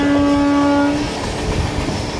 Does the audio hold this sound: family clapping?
no